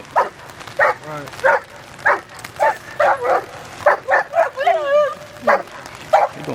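A dog barks in sharp, repeated bursts during protection training, a dozen or so loud, close barks in uneven rhythm, with some whining and yips between them.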